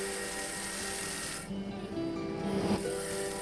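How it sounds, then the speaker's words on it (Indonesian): A cutting grinder trims the edges of a rough agate stone, producing a steady, close, buzzing whine whose pitch drops briefly partway through as the disc bites into the stone. "Pertama kita rapikan dengan gerinda potong."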